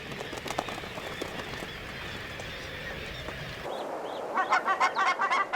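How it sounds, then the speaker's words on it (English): Barnacle geese calling at an Arctic nesting cliff, a series of short honking calls in the last couple of seconds after a stretch of steady background noise, fairly close and clear. "Barnacle geese, another Arctic cliff nester."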